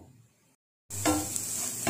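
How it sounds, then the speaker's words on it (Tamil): Egg kothu bread being stirred in a pan over a high flame, heard as a steady close sizzle with light scraping that begins abruptly after a moment of silence. "ஸ்டவ் ஹை ஃப்ளேம்ல வெச்சிட்டு 1 நிமிஷம் நல்லா கலந்து குடுக்கலாம்"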